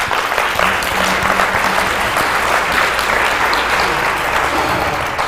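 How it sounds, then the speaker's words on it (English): A symposium audience at a nursing event applauds in dense, steady clapping that fills the room throughout, loud and continuous, with faint voices underneath. "Please give them very big round of applause."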